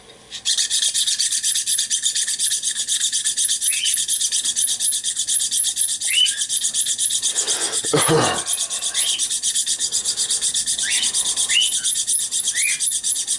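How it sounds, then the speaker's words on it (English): Continuous harsh rasping of a metal file scraping steadily on a coin ring, close and loud, with a brief heavier thump midway and faint bird chirps in the background. "hit it with the file again"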